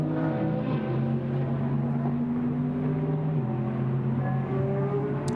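GT race cars from a Blancpain GT Sports Club race at Paul Ricard circuit drone steadily through the clip, a continuous engine tone with a pitch shift near the middle as the cars pass, fairly distant and without talk.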